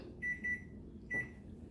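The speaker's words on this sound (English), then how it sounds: "So here was my timer." Kitchen timer going off while rice cooks, three clear electronic beeps, two close together then a third after a pause, loud over a quiet room hum.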